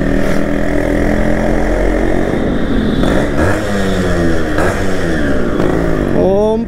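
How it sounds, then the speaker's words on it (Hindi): A loud Yamaha RX motorcycle engine with a throaty, modified-muffler growl, revving up and down repeatedly, heard close from the rider's position. "क्या साउंड है भाई साहब मॉडिफाई मफलर का"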